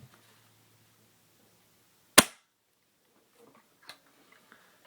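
An airsoft gun fires a single sharp, loud crack as its shot strikes a sack doll, standing alone amid near silence, followed by a few faint small knocks.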